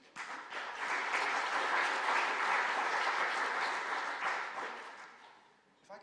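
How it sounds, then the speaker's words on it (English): An audience at a humanitarian standards launch event gives the speakers a warm round of applause, clapping that swells quickly, holds steady for several seconds, then tapers off, with a voice faintly heard near the end. "A big round of applause then for both our speakers."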